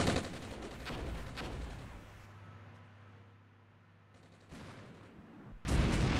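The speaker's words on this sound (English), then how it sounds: "Turret blew off there. Hell of an explosion." Tank explosion in the Armored Brigade war game: heavy blasts and gunfire-like bursts open loudly, ease into a lower rumble with a steady droning hum, then a sharp loud burst returns at the end.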